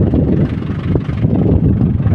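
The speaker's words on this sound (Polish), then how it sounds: "Traktorek sobie pyka." An Ursus tractor fitted with a Suprowski muffler idles close by, a loud steady low chugging rumble with a rough, even pulse and no voices.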